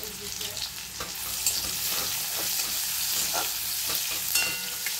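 Nigella seeds sizzle steadily in hot oil with onion in a pan while a spoon stirs and scrapes in repeated short strokes, close and continuous throughout.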